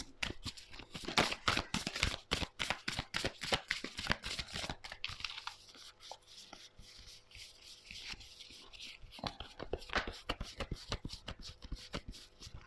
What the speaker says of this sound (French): Il me semble qu'il y a une carte qui s'est retournée.